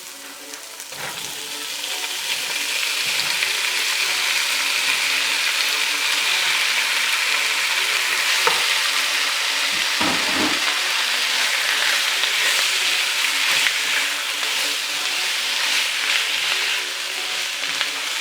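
Beef dropped into a hot pan for red beef curry sets off a loud, steady sizzle that runs unbroken for the whole stretch, with brief clatter and a low thump near the middle as the meat settles.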